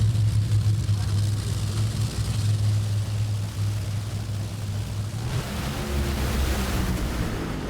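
Top Fuel dragster driven by Brittany Force at the NHRA U.S. Nationals, a loud sustained engine roar with broad rushing noise that shifts after about five seconds, heard at a distance over crowd and track ambience.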